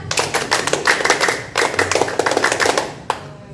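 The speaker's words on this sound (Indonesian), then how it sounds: "Kalian tahu nggak yang namanya tepuk pramuka? Coba cek sound dulu. Tepuk pramuka." A group of children claps the Indonesian scout clap rhythm (tepuk pramuka), crisp hand claps in quick patterned bursts with a short pause midway and a final clap near the end.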